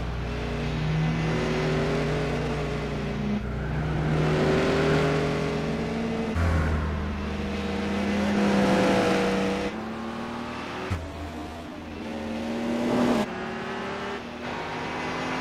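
A Speed 12 race car engine in the video game Gran Turismo 4 roars near and loud, its pitch climbing through repeated revving sweeps broken by abrupt gear-change drops, with no talk over it.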